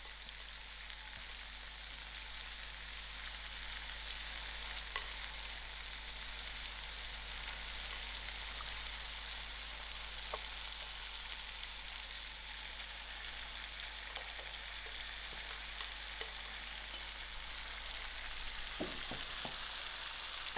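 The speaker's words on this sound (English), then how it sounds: "I'm going to lower my heat and allow this to fry out" A frozen seafood mix with herbs fries over lowered heat in a stir fry, giving a faint, even, continuous sizzle with occasional tiny pops and no talking.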